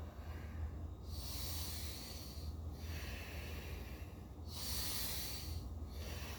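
Slow, controlled breathing during a martial arts exercise, heard as several long, hissing breaths drawn in and pushed out close to the microphone in an even rhythm, with no talking.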